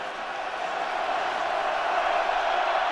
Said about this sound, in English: Crowd trying to stay in it and stay loud.